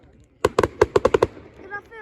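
A quick burst of about seven sharp firework bangs at a South Road display, crackling in rapid succession, followed by faint voices talking in the background.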